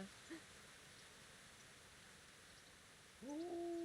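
Steady light rain patters in a medieval Bohemian video game setting, a soft continuous hiss throughout, joined near the end by a brief tonal sound.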